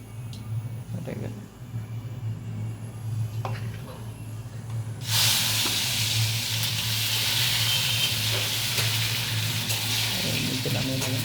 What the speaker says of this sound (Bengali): এবার পাঁচফোড়ন দেওয়া হলো তেল গরম করার পর,